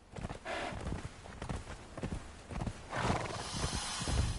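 A horse in the video game Conan Exiles whinnies and snorts while its hooves clop steadily, fairly close and clear against a busy game soundscape.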